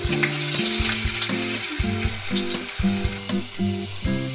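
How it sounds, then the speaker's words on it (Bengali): Cubed potatoes sizzle in hot oil seasoned with dried chili and five-spice, steady bright crackling up close, with tuneful background music playing underneath throughout. "আলুটা ভেজে নিচ্ছি"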